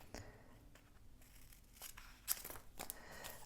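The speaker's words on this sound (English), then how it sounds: "I need scissors then, obviously." Scissors snip paper during a craft and journaling session, two or three quick, crisp cuts against a quiet room with faint rustling.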